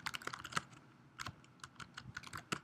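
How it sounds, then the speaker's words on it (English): Keys clatter on a computer keyboard in quick irregular bursts, close and crisp, with short pauses between flurries of taps and no voices. "keyboard"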